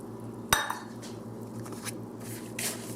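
A spoon stirs a wet granola mixture into dry ingredients in a bowl, with a sharp clink of utensil against the dish, then soft scraping and light, irregular clatter, quiet and close.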